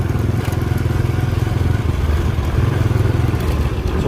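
Classic small motorcycle ridden home, its engine thrumming steadily and close by with a constant low rumble throughout, and no talking.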